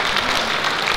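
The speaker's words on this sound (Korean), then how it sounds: "네, 큰 박수 부탁합니다." Audience applause at an inauguration ceremony of a Korean flower design association, a brief burst of dense, continuous clapping from a crowd.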